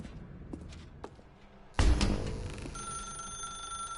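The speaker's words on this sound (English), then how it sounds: "Now pick up the phone" A telephone rings in The Stanley Parable video game, a loud bell starting abruptly after faint footsteps and thuds, then sustaining a bright ringing tone to the end with no talk.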